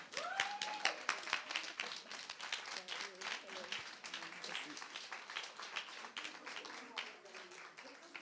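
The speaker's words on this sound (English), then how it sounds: "can everybody be upstanding with a round of applause for Rosemary Nani Knight?" A conference audience gives a sustained round of applause, with dense, steady clapping that holds at a moderate level throughout and fades slightly toward the end, with some voices mixed in.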